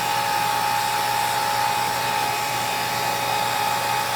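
A hair dryer blows steadily on a carpet pet stain, a constant whooshing roar with a faint high whine, close and unchanging.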